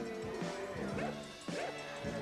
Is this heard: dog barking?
yes